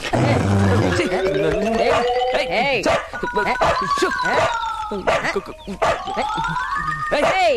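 A dog in a Telugu comedy film scene howls and whimpers in repeated rising, wavering cries, with people talking over it throughout.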